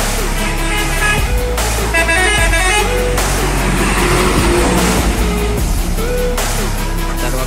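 A medium bus of the Pangeran line passes close by on the road, sounding a loud, repeated musical horn in several long bursts over a heavy engine rumble.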